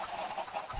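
Chickens cluck in Minecraft, a short, steady run of quiet, evenly spaced blocky game clucks with no talk.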